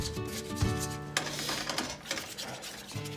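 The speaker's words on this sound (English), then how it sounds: "Stir and whisk and heat it until we can see it getting thicker like that" A whisk rubs and scrapes rhythmically against a hot pan while a mixture thickens, close and fairly quiet, with a faint tonal hum underneath.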